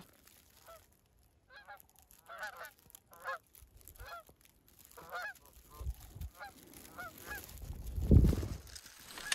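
Geese honking fairly close over a tall hay field during a goose hunt, a scattered series of repeated honks building in number, with rustling and a louder thump near the end, and no talk over it.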